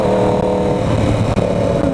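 A 2020 Yamaha R1 sport motorcycle's engine drones steadily and loudly while being ridden, a close, continuous rumble with no talking.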